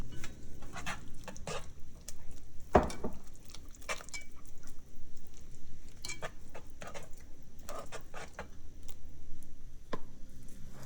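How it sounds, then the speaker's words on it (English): Cheese being stirred into a potato gratin sauce in a pot: soft, close scraping and ticking of a utensil against the pan, with irregular light taps and one sharper knock, no voices. "Then I add the cheese and give it a stir."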